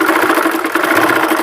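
A sewing machine stitches fabric with a steady, fast mechanical whir and rapid rhythmic clatter, loud and close throughout.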